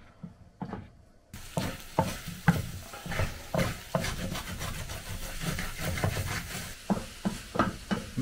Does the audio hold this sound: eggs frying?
yes